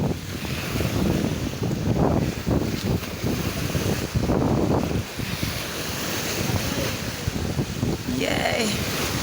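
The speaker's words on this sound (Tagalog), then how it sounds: "Og medyo lihok na kayo ang dagat." Ocean waves at sea off Mantigue Island in Camiguin wash and churn loudly and continuously, mixed with heavy wind buffeting the microphone and the sound of a boat, with a voice speaking over it.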